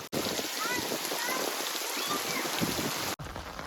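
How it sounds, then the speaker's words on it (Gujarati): Steady heavy rain pours down on a farm field in a dense, continuous hiss, briefly cutting out near the start and again just before the end. "વરસાદ બરાબરનું આવે છે"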